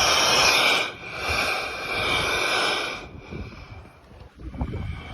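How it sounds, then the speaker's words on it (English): Ocean waves surge through rocks in broadband rushing swells that fade like slow breaths, a loud exhale ending abruptly, then quieter hissing and rumbling water against rock. "The waves of the ocean are making these rocks sound like they're breathing."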